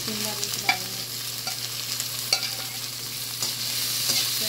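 Chopped onion and capsicum stir-fry in a pan for restaurant-style veg Manchurian, a constant sizzle broken by sharp scrapes and clicks of a spatula stirring the vegetables, close by with a low steady hum underneath.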